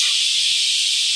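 Capsicum lightly frying in a pan for a chicken dish gives a steady, bright sizzle and hiss close by, even throughout, with a small clatter right at the end.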